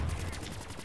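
Rapid automatic gunfire in Black Ops 3 Zombies while a KN-44 rifle is used, a quick string of evenly spaced shots under a second long, fairly quiet.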